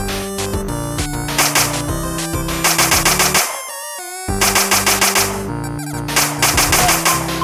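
Blaster gunfire in a 7DRL roguelike video game: rapid, loud bursts of synthetic electronic shots firing in repeated volleys, broken by a short descending tone and a brief pause before the shooting resumes.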